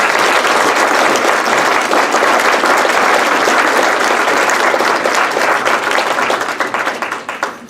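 An audience at the Wisconsin Book Festival in Madison applauds to welcome a speaker, steady and loud dense clapping for several seconds that thins out and fades at the end.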